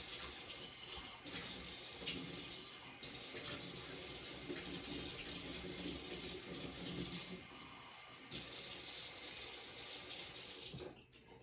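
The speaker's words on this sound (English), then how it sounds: "So I'm going to change the water right now." Tap water runs steadily into a sink for about eleven seconds while the water is changed for green onions regrowing in a jar, a close, continuous splashing hiss with brief pauses.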